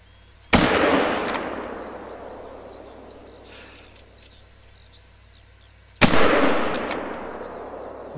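Two loud rifle shots in the hunting game The Hunter: Call of the Wild ring out about five seconds apart, each a sharp crack followed by a long rolling echo that fades into quiet outdoor ambience.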